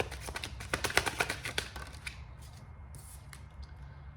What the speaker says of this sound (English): Give me one more shuffle.